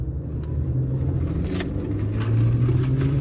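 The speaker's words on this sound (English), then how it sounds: "You hear him in his stupid little shit can muffler?" A car engine rumbles low and steady nearby, its muffler giving a deep throaty drone that swells slightly louder toward the end.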